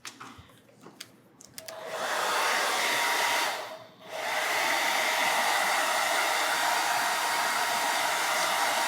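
A hair dryer blows steadily to dry paint on a stencilled house number sign, with a few clicks before a loud continuous roar that briefly dips and then resumes.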